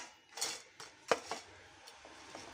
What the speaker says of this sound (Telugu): ఇప్పుడు ఈ తూట్ల గిన్నెలోకి వేస్తున్నాను నేను,